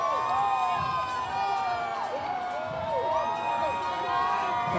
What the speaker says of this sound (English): It's unsurprisingly cheering for the sun.